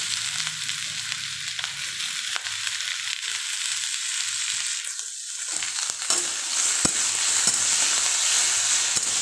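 Chopped onion, tomato and capsicum fry in a hot pan, a strong, steady hiss of sizzling oil with occasional soft stirring scrapes and clicks, close and loud with no voice.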